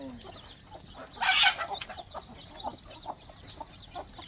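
Native farm chickens cluck near a field shelter. A brief loud squawk comes early, followed by a string of soft, irregular clucks at moderate distance, with faint voices in the background.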